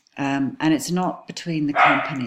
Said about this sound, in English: Excuse my dog, she's very annoying